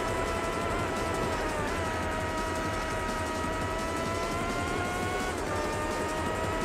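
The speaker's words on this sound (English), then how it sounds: "this is probably the loudest engine that I heard so far in this game. Which makes sense since it's a Formula engine" A Formula GT race car engine in Gran Turismo 4 holds a loud, sustained high-revving whine with steady harmonics that shift slightly as revs change, continuous and close throughout.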